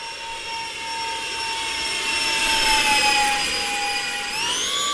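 A simulated F-14 Tomcat jet engine from the RealFlight 9.5 flight simulator whines steadily and loudly, a sustained turbine drone with a brief rise in pitch near the end, heard alone without talk.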